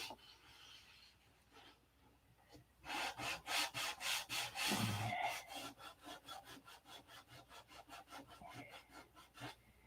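Hand sanding of a painted surface gives rhythmic, close scratchy strokes, faint at first, then a loud run of quick back-and-forth rasps that settles into steadier, softer passes.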